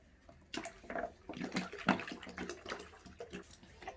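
Sodium sulfate dissolved in half a litre of water is poured into a homemade liquid laundry detergent mix, giving a close, uneven splashing and gurgling stream that swells and fades over several seconds.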